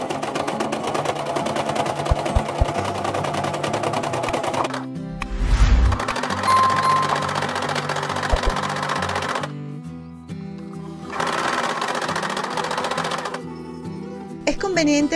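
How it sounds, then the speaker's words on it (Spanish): Sewing machine stitching fabric along marked lines for a glass bottle or thermos cover, heard in two or three close, fairly loud runs of rapid mechanical whirring broken by short pauses and handling clunks. "Y cosemos justo por donde hemos marcado."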